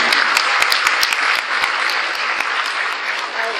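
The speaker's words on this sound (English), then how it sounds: "Let's begin this conference, ladies and gentlemen, by welcoming each other with a big, big round of applause." Conference attendees in Singapore give a big round of applause, dense sustained clapping with a few sharp individual claps standing out near the start, easing slightly toward the end.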